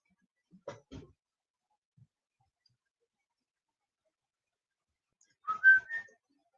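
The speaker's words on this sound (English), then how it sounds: "I'm going to be whistling out the rest of the night." A person whistles in two short, quiet bursts: a brief one near the start, then a longer tuneful phrase near the end, with near-silence between.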